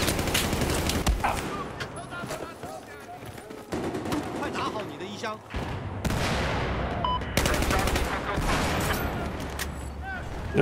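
HK416 rifle fire in the Battlefield 4 video game comes in repeated rapid bursts with gaps between them, mixed with other battle noise while players talk over it throughout.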